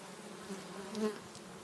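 A soft, continuous buzzing of many honeybees close by at a hive entrance, a faint steady hum with no voices.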